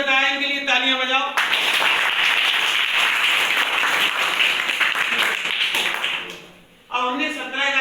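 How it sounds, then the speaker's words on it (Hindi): Classroom students burst into loud, sustained applause for a classmate, dense clapping lasting about five seconds before fading, with a teacher's voice heard before and after. "इनके लिए तालियां बजाओ"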